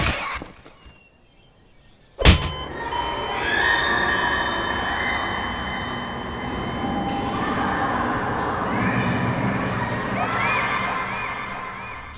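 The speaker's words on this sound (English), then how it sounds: "those two noises you heard are both sounds from Half-Life 2." After a quiet stretch, a sudden sharp squeal from Half-Life 2 bursts in, followed by a continuous wash of distant children shouting and playing in a video-game playground ambience that lasts to the end.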